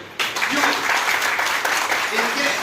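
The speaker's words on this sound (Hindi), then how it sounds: "डॉक्टर नंद किशोर जी, इनके लिए ताली बजाइए।" A hospital event audience in Varanasi claps for Doctor Nand Kishore, a short burst of applause that starts abruptly and stays even, with voices talking over it.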